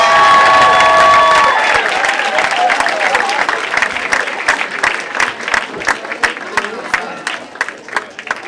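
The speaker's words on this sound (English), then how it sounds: "Applause for Mitch Shapiro, everybody." An audience at a stand-up comedy show bursts into loud applause and cheering, thinning over several seconds into scattered individual claps that trail off.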